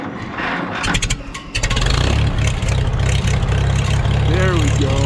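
A Super W-6 tractor engine being choked and cranked, sputtering briefly before catching and settling into a loud, low, steady idle with a rough chugging rumble, while someone speaks briefly.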